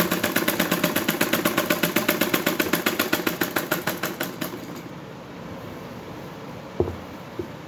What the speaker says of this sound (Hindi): तो देखो मैंने यहाँ तक सिलाई लगा लिया।